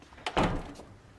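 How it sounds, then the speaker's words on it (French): A door swings shut indoors with a single soft thud, close by and fairly quiet against a faint room hush, no voices over it. "La porte fermée en plus."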